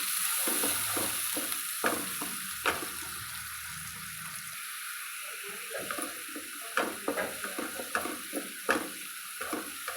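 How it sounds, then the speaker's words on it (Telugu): Paste of two medium onions fries in a pan with cumin, mustard seeds and dried red chillies, giving a steady close sizzle. Irregular spoon scrapes and taps from stirring run through it. "ఉల్లిపాయ పేస్ట్ ఇట్లా వేగినాక"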